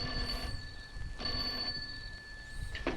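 An old-fashioned telephone bell rings in a 1950s giant gila monster film, sounding in two distinct ring bursts separated by a long gap, over a steady background hum with no speech.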